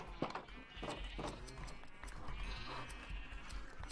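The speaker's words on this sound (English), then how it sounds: "We're gonna go shear some sheep." Several sheep in the Minecraft video game bleat one after another during a shearing session, quiet and steady against a low background hum.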